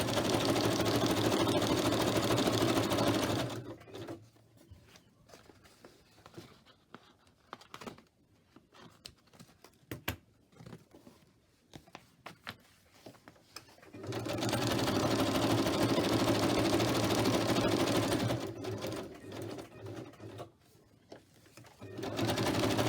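A sewing machine stitches around a folded fabric pocket in loud, steady whirring bursts, running for several seconds, pausing with small clicks and handling noises, then starting again.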